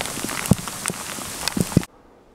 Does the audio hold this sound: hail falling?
yes